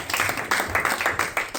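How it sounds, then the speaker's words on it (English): Scattered handclaps from an audience at a tech conference debate session come in uneven bursts, several distinct claps rising and falling over a short stretch without speech. "Can you give a round of applause, please?"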